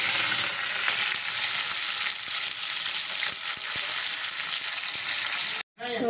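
Tempering sizzling hard in hot oil for a Telugu okra fry, a loud, continuous crackling hiss that holds steady and then cuts off abruptly near the end.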